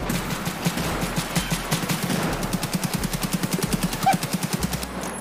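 Gunfire in a first-person video game: rapid automatic bursts, a fast rhythmic chatter of shots that grows sharper and more distinct toward the end, loud and with no talk over it.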